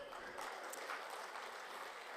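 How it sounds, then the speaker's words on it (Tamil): Audience applause at a live comedy stage event, a dense, steady wash of clapping filling the whole stretch at moderate distance, with no clear talking over it. "இந்த வலுக்கட்டாமல் கைதட்டுற தயவுசெய்து நிறுத்திடுங்க."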